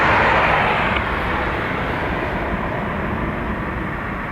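Jet airliner departing Dublin Airport for Heathrow, a dense broadband engine roar that is loudest at the start and then slowly fades as the aircraft moves away.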